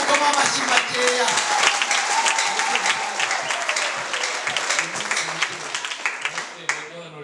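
A church congregation claps loudly and steadily for several seconds, a dense wash of applause filling the room, with voices calling out beneath it and the clapping thinning briefly near the end.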